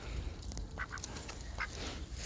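A duck quacks a few short times while being fed, close by over a steady low background rumble.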